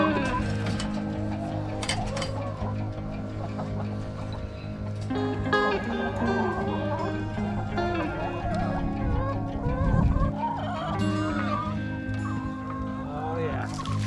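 Chickens cluck and murmur near the coop in a busy, overlapping chorus, with mechanical clicking and rattling mixed in and a brief louder burst near the end.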